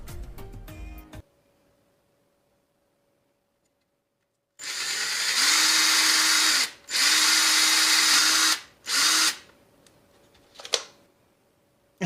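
A Ryobi power drill bores holes into the corners of a small popsicle stick pallet, with several loud whirring bursts separated by short pauses. A few clicks and taps follow, and no one talks.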